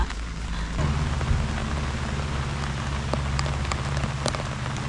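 Heavy rain pours down on a campsite in Bokod, Benguet, a dense steady hiss of drops drumming on surfaces, with occasional sharper drips close by.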